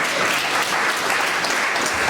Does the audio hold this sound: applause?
yes